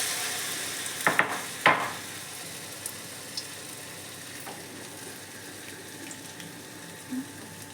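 Pumpkin flower fritters dipped in batter fry in hot oil, a steady bubbling sizzle throughout, with a couple of sharp utensil clinks near the start and occasional small pops.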